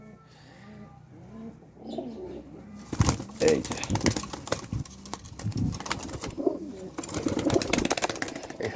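Dhakaiya pigeons coo softly nearby, followed by a burst of flapping wings and rustling. Someone speaks intermittently over the birds.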